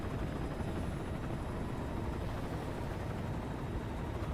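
A helicopter in the Metal Gear Solid V: The Phantom Pain video game gives off a dense, continuous rotor and engine roar that stays loud and steady throughout, with no voices.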